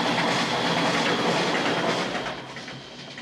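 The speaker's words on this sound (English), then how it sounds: "There's a train." A train rumbles past nearby with steady rolling wheel noise and faint clacking, fading slightly toward the end.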